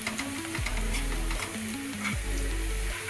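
Onions browned to golden in a pan sizzle and fry with spices for a jackfruit bhaji, a steady close crackle with faint stirring, while a tonal beeping melody plays over it.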